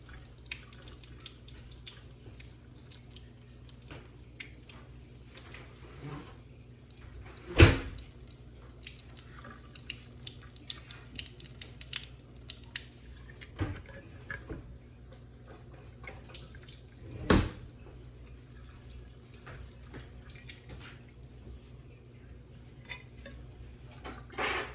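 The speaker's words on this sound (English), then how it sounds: "I'm gonna just drain it out." Soaking water from almonds drains out of a kitchen sink, a steady low gurgle and trickle with a few louder splashes and sloshes spaced through, no talking.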